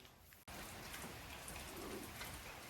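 Heavy rain with wind pours down in a steady, dense hiss that is interrupted only by a brief dropout near the start. It then continues unbroken and fairly soft, with no voices.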